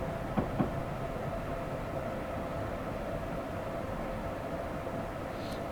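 An ACS-64 electric locomotive runs in Train Simulator 2015 on the New York to New Haven line, giving a steady, moderate rolling rumble with two sharp clicks early on and no voices.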